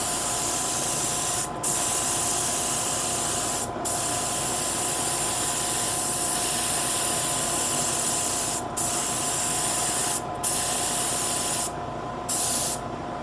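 Spray gun applying a very thin coat of thinned Wood 720 white undercoater, a continuous loud hiss broken by several short pauses, with a bright high-frequency spray texture and faint underlying tones.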